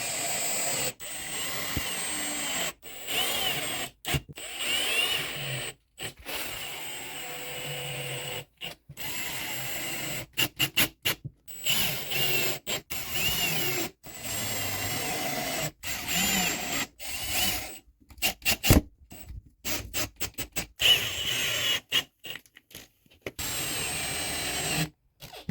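Power drill driving new screws into drywall during a master bedroom renovation, heard as repeated short bursts of whirring and grinding separated by abrupt silences, fairly loud and close with no talking.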